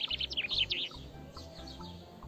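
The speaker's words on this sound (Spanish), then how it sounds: "En el bosque cantan los pajaritos." Small birds chirp in a forest, a quick run of bright tweets at the start and then fainter calls over a soft, pulsing low background.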